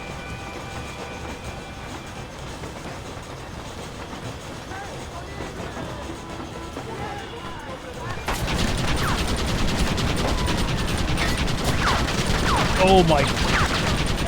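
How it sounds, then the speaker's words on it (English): A Gatling gun in Red Dead Redemption fires in a loud, dense rattling stream, starting abruptly midway and continuing over rumbling train noise, with a voice briefly exclaiming. "Do I leave the Gatling on?"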